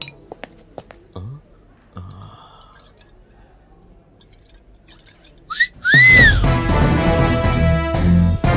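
Someone whistles a bright rising tone near the end, set against faint drips and clicks before a loud burst of music-like noise takes over.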